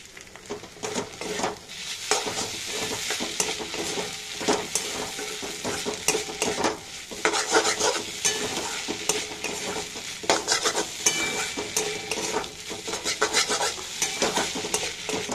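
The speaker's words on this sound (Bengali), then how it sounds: "দেখো চাউমিন মশলাটা দিলাম, আর একটু নেড়ে নিই" Chow mein frying in a pan with masala as a utensil stirs it, giving a steady loud sizzle and repeated scraping and clinking of metal against the pan, with no voices.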